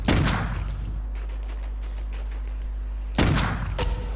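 Gunshots in Clive Barker's Undying: a loud blast opens, a run of faint, distant pops follows, and then another strong shot hits near the end over a steady low background hum.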